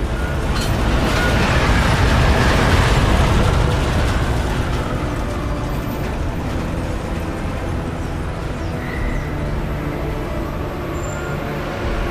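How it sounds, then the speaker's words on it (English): Train arriving at a station in Deus Ex: Mankind Divided: a loud, continuous rumbling roar that swells early, then settles into a steady mechanical drone as the train slows, with no voices over it. "Just getting off the train now."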